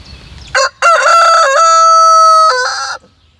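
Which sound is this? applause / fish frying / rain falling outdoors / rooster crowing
rooster crowing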